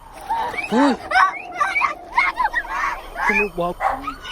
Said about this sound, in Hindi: कुत्तों की बहुत ज्यादा आवाजें आ रही हैं